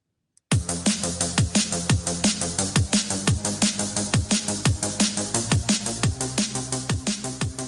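A punchy electronic beat with a steady kick and hats over a deep bass line, sidechain-compressed in Ableton, that ducks and swells after every drum hit, loud and continuous.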